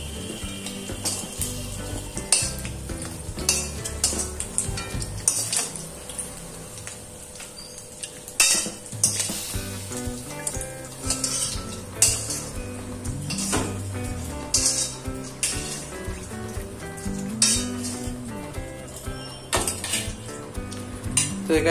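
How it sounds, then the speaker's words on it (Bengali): Dried fish frying lightly in a pan on a home stove, with steady sizzling broken by frequent clinks and scrapes of a utensil against the pan and dishes, close and continuous. "হালকা করে ভাজতে হবে।"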